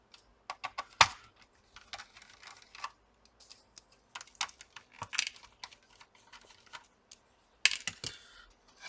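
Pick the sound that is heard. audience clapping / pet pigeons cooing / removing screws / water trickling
removing screws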